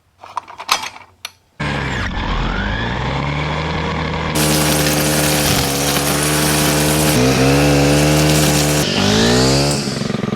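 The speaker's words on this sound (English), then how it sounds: "we're going to upgrade to an industrial class trimmer" An industrial class trimmer, a large machine engine starting up after a few clunks, then running loud and steady close by with a whining mechanical drone that shifts pitch as it works.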